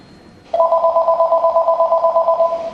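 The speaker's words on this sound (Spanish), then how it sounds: "en esos mismos días nos sonó el teléfono" A telephone begins ringing after a short quiet moment, a steady trilling electronic ring that pulses rapidly and stays loud and close until the end.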